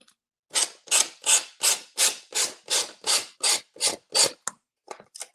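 Harsh, coarse rasping like 60-grit sandpaper from a washboard craft project: about eleven loud, evenly spaced scraping strokes close up, then a few shorter, softer ones.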